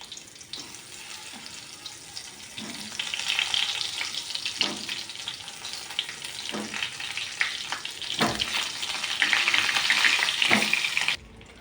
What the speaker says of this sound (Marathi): वांगे असे तेलात थोडे आपण फ्राय करून घ्यायचे